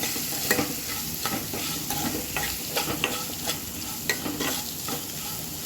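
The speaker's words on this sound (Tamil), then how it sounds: "ஆட் பண்ணி நல்லா டீப் ஃப்ரை பண்ணிக்கிறேன்" Continuous hissing sizzle of banana flower and red chilli deep frying in hot oil, punctuated by repeated scraping clicks of a utensil stirring the pan.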